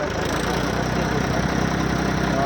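A steady low engine rumble idles on without pause, close and constant, with a faint rhythmic knocking underneath and no voices.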